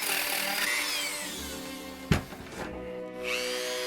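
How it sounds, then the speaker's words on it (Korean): A high-speed rotary drill smoothing wood-burned lettering in 3D-printed filament, a steady whining buzz with harmonic tones that holds for a few seconds, broken by a sharp knock midway before the whirring resumes. "마지막으로 고속 드릴로 다듬어 주시면 됩니다"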